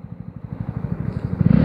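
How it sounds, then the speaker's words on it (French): A Honda CB125R motorcycle engine thrums under way on the road in a quick, regular pulse, rising toward the end as the revs climb, close and alone with no speech. "le son de la moto, il est juste magnifique"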